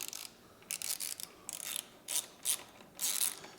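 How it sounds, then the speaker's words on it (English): A bolt is worked loose on a sport bike with a ratchet, giving quick bursts of clicking pawl strokes in an irregular rhythm, fairly faint and close, with no voices. "We're going to take this bolt out."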